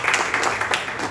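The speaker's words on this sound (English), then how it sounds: "Yes, give her a round of applause." An audience at a movie presentation briefly applauding, a dense patter of many hands clapping at steady volume with a faint voice underneath, lasting about a second.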